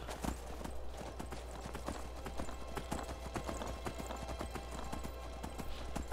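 Rapid clip-clop of horse hooves at a steady galloping rhythm in the video game Skyrim, continuous and fairly close, with a low hum underneath.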